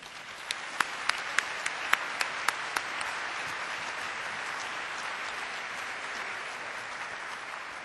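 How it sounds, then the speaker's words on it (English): A crowd applauds steadily at an Apollo 11 40th anniversary event at the National Air and Space Museum, a dense wash of clapping with a few sharp, close claps standing out near the start. "Let's give everybody, especially the National Air and Space Museum, a big round of applause."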